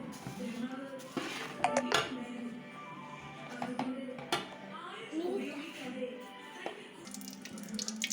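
Poha (flattened rice) is stirred in a cooking pan at home, with a spoon clinking and scraping against metal in irregular strokes, close by, while someone speaks over it.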